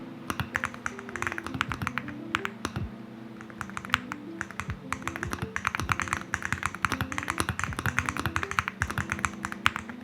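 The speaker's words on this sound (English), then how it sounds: "For a gaming-focused keyboard, it sounds surprisingly good." Steady clacky typing on a Hall effect gaming keyboard, quick uneven keystrokes close up with no talking.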